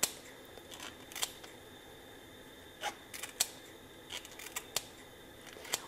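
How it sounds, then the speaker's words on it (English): Kitchen scissors snip through artichoke leaves in a series of short, crisp clicks spaced irregularly, quiet and close against a faint steady background hum, with no talking. "you're dealing with a pair of scissors here, and it's pretty cinchy"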